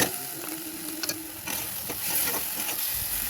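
Eggplant sizzles with spices in a pan, a close, continuous frying hiss with faint scraping from slow stirring.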